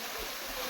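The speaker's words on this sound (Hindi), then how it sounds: "यह है कोलवा का झरना" Kolwa waterfall, a hidden falls in Govindpur, Nawada, pours in a steady broadband roar, close and continuous with no pauses and no voices.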